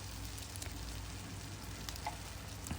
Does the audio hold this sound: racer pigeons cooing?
no